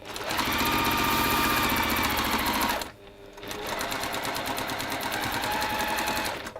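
A sewing machine stitches a seam through fabric with a fast, steady mechanical whir, close and loud, pausing briefly before running on again at the same pace.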